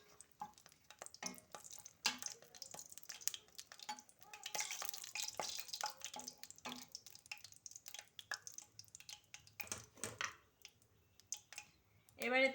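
Bay leaf and dried red chillies are stirred in hot oil in a pan, giving faint, scattered scraping clicks and a light sizzle.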